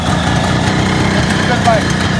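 A 1972 Kawasaki H2 750 two-stroke triple with its choke set runs right after a kick start. It holds a steady, close, rough idle for the whole clip, with no gaps.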